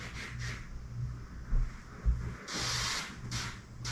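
Several short hissing sprays of cleaning solution on a 2022 Honda Accord's back glass, the longest lasting about half a second, over a low background rumble with some rubbing sounds.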